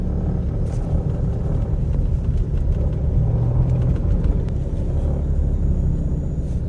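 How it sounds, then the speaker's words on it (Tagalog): A Toyota Hilux pickup driven slowly gives off a steady, loud low rumble and vibration that runs throughout, with no talk over it. "Yung parang vibration kapag tumatakbo ka ng mabagal, ito yung maririnig mo."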